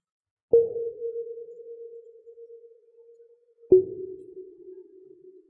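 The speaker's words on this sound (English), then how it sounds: "you can hear the synthesizer, the reverb, if I do something like this" Two synthesized tones played by live code, each a sharp attack followed by a long sustained pitch that fades slowly under heavy reverb, alone and fairly loud.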